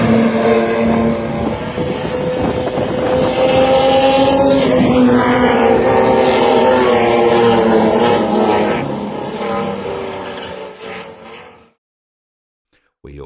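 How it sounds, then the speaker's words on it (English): HQ Holden cars racing on a speedway, a loud, sustained roar of several engines rising and falling in pitch as they pass, fading sharply near the end before falling silent. "spirited displays out there on the raceway from the HQ Holdens"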